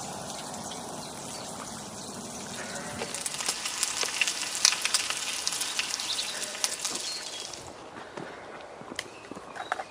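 Bacon sizzles in a pan outdoors at a fishing lake, a steady close crackle and hiss with scattered sharp pops that grow busier partway through.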